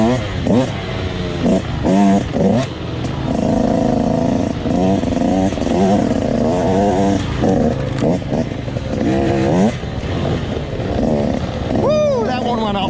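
An off-road motorcycle riding on a wooded trail, its engine revving and surging up and down in uneven bursts close by, with a rider's voice heard over it.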